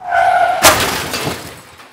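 Car crash sound effect: a loud hum gives way to a sudden sharp smash of breaking glass that scatters into tinkling debris and fades over the next second.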